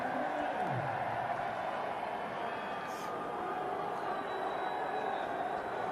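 Steady crowd noise at Harare Sports Club during a cricket international against India, a broad, continuous murmur of spectators filling the stadium with no breaks.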